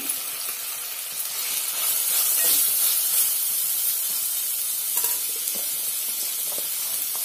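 Thinly sliced onions frying in oil in a pan for a spicy chicken fry, a steady bright sizzle and hiss with occasional stirring, close and continuous with no talking.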